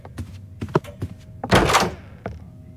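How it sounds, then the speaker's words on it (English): A door opens in the Roblox horror game Doors with a loud thunking burst lasting about half a second, set among several shorter knocks and clicks. "I just heard a door open up."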